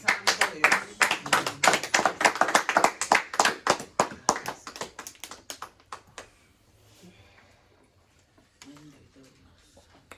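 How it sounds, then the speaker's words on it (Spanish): Congregation at a church service clapping in applause, loud dense claps for about six seconds, then fading to quiet with some faint voices. "Den el aplauso a Cristo"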